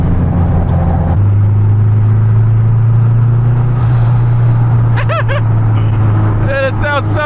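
A turbocharged Honda K24 car engine spools under light throttle while driving, a steady loud low drone with whistling rising tones near the end, as someone talks over it.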